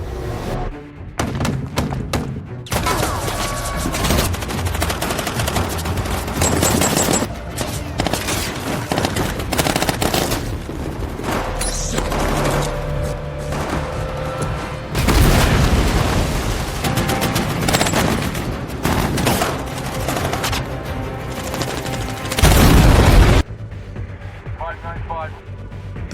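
Airstrike explosions and heavy gunfire from the film 12 Strong in Afghanistan, with sustained machine-gun fire, booming blasts and dense battle noise throughout.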